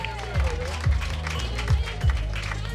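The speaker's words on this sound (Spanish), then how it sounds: "¡Fuerte el aplauso!" A crowd at a community foundation event applauds, a continuous wash of clapping with a few louder thumps, heard beneath an announcer's amplified voice and background music.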